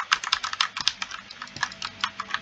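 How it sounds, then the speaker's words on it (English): Fast, crisp keystrokes on an old computer keyboard, roughly twenty close clicks in a quick irregular rhythm, heard alone. "this is my old keyboard"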